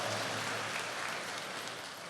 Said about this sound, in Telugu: అందరం గట్టిగా చప్పట్లు కొట్టుకొని అభినందనలు తెలియజేసుకుందాం.